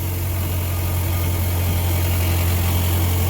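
A race car engine with a clogged catalytic converter idles roughly, a loud, close, steady low drone with a heavy hum and no pauses.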